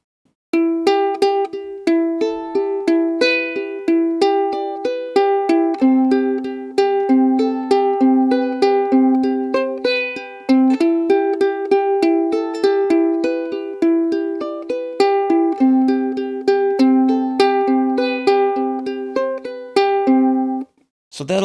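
Ukulele plucked in a steady repeating fingerpicking pattern at full tempo for a grunge song, bright and close, running continuously for about twenty seconds before stopping.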